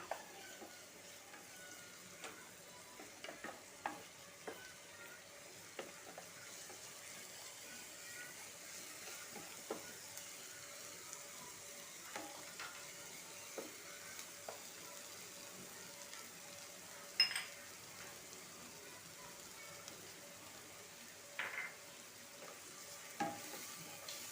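Chopped onions sautéing in a pan for a sago biryani give a soft, steady sizzle, faint and close, broken by scattered scrapes and taps of a stirring spoon.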